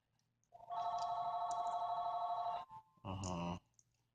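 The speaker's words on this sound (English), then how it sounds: "I'm not gonna pick up the phone right now" A mobile phone rings with an incoming call during a Samsung Galaxy S5 screen repair, a steady electronic ringtone about two seconds long, then a short burst after a pause, loud and close with no talking.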